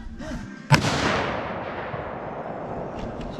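A single loud .308 rifle shot cracks outdoors at a cabin in northern Michigan and rolls off into a long echoing decay, with faint voices before it.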